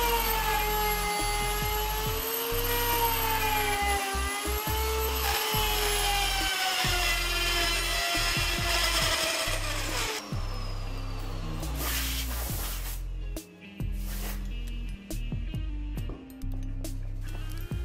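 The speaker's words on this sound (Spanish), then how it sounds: "Así que recorto la pieza y la vacío por dentro hasta que me entre perfectamente la base." A wooden piece for a wooden bicycle seat is cut and hollowed out with a power tool, giving a loud, steady whining drone over low rumbling that later breaks into choppier grinding bursts.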